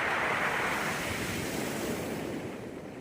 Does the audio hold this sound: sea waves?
yes